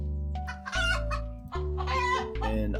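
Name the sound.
chickens clucking in the video game Terracards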